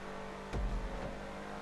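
Canis Freecrawler off-road vehicle in GTA 5 driving at top speed, with a steady engine drone and a brief low thump partway through.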